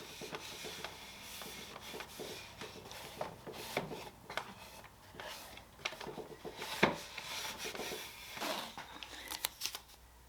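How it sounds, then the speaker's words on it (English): Hand sanding rasps back and forth across the surface of an IKEA nightstand, smoothing it flat. The scratchy strokes are close and irregular and continue steadily with no talking. "dry, I'm going to sand that flat"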